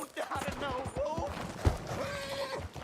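A horse in Red Dead Redemption 2 whinnies and neighs close by with hooves clopping, while someone talks over it.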